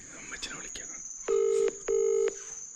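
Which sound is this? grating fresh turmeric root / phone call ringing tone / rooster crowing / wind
phone call ringing tone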